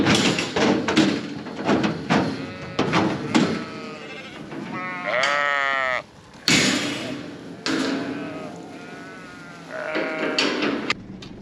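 Stud ewes in a paddock bleat repeatedly and loudly at close range, several overlapping calls with rustling between them.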